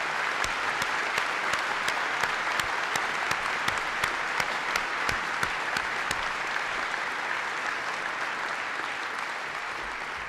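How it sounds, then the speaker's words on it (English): Sustained audience applause at a political event honoring a vice president, dense steady clapping from a large crowd held at an even loud level throughout, with no voices over it. "He deserves your applause."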